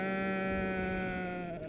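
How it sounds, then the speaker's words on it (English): A sheep on the damp coastal grazing land of Northam Burrows gives one long, loud, steady bleat close by, fading slightly at the end. "The sheep must find an escape route to drier ground"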